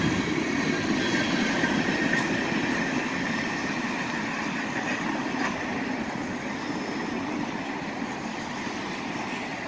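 A Union Pacific freight train rolls steadily past with a continuous heavy rumble of wheels on rails, faint squeals and clacks, as the reefer car at the rear goes by.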